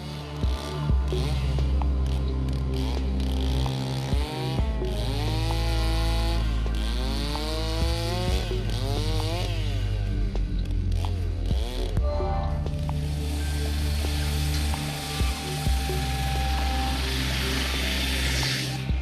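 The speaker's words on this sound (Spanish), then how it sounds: "Las motosierras le dan forma a los bloques más grandes" Loud, continuous chainsaw engines whine and rev, their pitch rising and falling as blades bite into large river-ice blocks at the Harbin ice festival, running steadily throughout.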